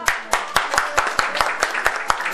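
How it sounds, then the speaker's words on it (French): Guests at a Paris wedding reception clap in a steady, rhythmic beat, with sharp, close handclaps evenly spaced and only faint murmuring beneath. "Et on l'applaudit."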